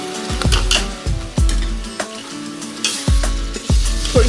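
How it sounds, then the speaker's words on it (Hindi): Half a kilo of minced meat (keema) fries with golden onions and black pepper in a pan, a steady sizzle broken by repeated sharp scrapes and clanks of stirring at an irregular rhythm, close and fairly loud. "थोड़ी सी देर कीमा को फ्राई करेंगे।"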